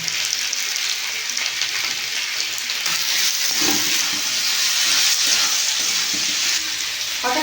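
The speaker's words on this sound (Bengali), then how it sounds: "কেটে রাখা ক্যাপসিকাম ভালো করে ভেজে নেব অল্প এক চামচ নুন দিতে দেবো" Chopped capsicum with a little salt fries in a hot pan for soya chilli, giving a loud, steady close sizzle with occasional stirring scrapes and no talk.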